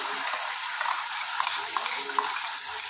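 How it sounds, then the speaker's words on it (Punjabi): Cumin seeds crackling in hot oil, a close, bright, continuous sizzle dotted with small sharp pops, with no talking. "ਜੀਰਾ ਆਪਣਾ ਚਟਕ ਗਿਆ"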